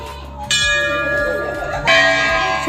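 Bells at the Jageshwar Dham Shiva temple are struck twice, each hit bright and loud with a long shimmering metallic ring that carries on, with people talking nearby.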